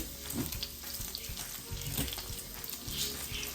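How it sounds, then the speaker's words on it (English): Strips of bacon fry in a pan, giving a steady, close hiss and crackle of sizzling fat with small pops throughout. "Wow, this is such a great way to cook bacon."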